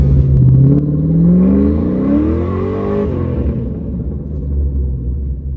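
A rebuilt engine, repaired after a blown head gasket, revs up under throttle, its pitch climbing steadily over a couple of seconds before easing off, with a heavy low rumble running underneath throughout.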